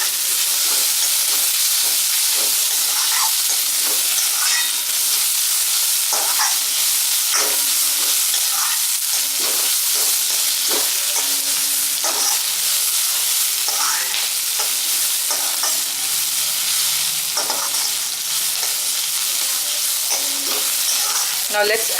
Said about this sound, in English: Let's sort this for 2 minutes till the onions gets golden brown.